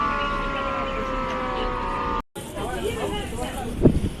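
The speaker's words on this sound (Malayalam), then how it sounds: "അലാറം സൗണ്ടാണ് ഇപ്പോൾ കേട്ടത്" An alarm siren sounds in Sri Vijaya Puram on the Andaman Islands as a steady, tonal wail for about two seconds. It cuts off abruptly, and murmuring voices and outdoor bustle follow.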